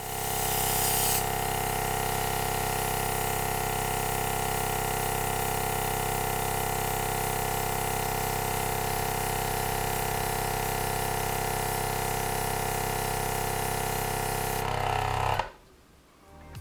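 A Fengda mini airbrush sprays at its lowest pressure setting, giving a steady, close, loud hiss of airflow that runs unbroken for about fifteen seconds and then cuts off abruptly.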